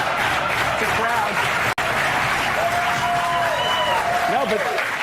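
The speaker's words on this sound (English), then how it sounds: "It's a crowd." A crowd at a Donald Trump signing event breaks into sustained, steady applause with a few whistles near the end, interrupted only by a split-second dropout.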